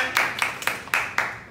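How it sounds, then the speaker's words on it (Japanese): A few claps from a small audience at a live bass performance in a BassOnTop Kyobashi store: five evenly spaced claps, fairly faint and close together, with no other sound between them. "温かい鳴りやまない拍手ありがとうございます"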